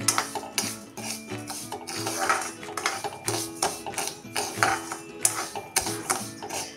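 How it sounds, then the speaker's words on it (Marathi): A spoon stirs sugar in hot ghee in a pan over a medium flame to caramelize it for vermicelli kheer, making rhythmic scraping and clinking strokes, close and fairly loud, with no voices. "साखर पूर्ण आता आपण हे कॅरमल करून घ्यायचे आहे"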